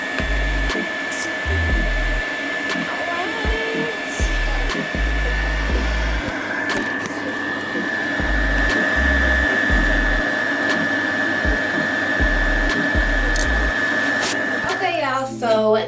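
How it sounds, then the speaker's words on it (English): A hood hair dryer blows in a steady, loud drone during home hair prep for braids, holding one continuous tone throughout with soft background voices underneath. "I'm gonna sit under the dryer and dry, and then I will be back."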